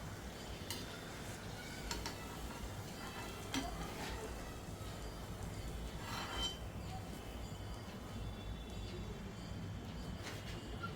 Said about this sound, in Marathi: छान खमंग तळलेली आहे पुरी अगदी बदामी रंगावर